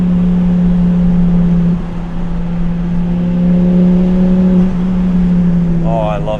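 A manual-swapped Volvo V70R wagon's engine drones loudly from inside the cabin while being driven hard on canyon roads, its steady tone climbing slightly as it revs, with a brief burst near the end.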